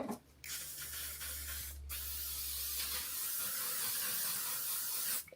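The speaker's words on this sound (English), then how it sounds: "So that's why I spray away before I spray it on my face." Short bursts of L'Oreal Infallible setting spray hiss from a clogged nozzle, a brief puff at the start, another near two seconds, then a longer continuous spray, close and fairly quiet.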